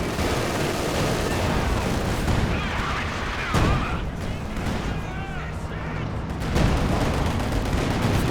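Machine gun fire and booming explosions from a Company of Heroes 2 2v2 battle, bursts and blasts rattling steadily under continuous commentator talk.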